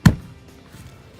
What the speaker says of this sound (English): I'm going to bang in the glass real quick.